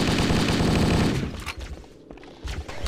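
Rifle gunfire in the video game Halo: Combat Evolved: a rapid, loud burst of automatic shots for about a second, followed by scattered single cracks and impacts amid game noise.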